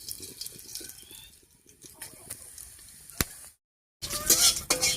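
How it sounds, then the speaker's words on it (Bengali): Whole garam masala and cumin seeds crackling in hot mustard oil in a wok, a faint sizzle with light stirring taps and a sharp clink, a brief silent gap, then a louder burst of frying. "আর ফোড়ন দেব গোটা গরম মশলা আর গোটা জিরা দিয়ে।"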